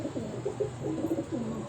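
Pigeons on a rooftop coo softly over steady background noise, with a few low murmuring calls running throughout.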